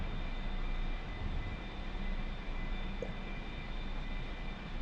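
An A-4 Skyhawk's jet engine drones steadily in the DCS flight simulator game as the throttle is pushed up, producing a continuous loud roar with a faint high whine and no speech.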